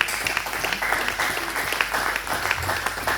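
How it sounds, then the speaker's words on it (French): A church congregation applauds during a worship service, steady dense clapping filling the space at moderate loudness with a faint voice beneath. "Acclamez la parole du Seigneur."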